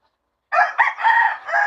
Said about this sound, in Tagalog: May manok kasi dito.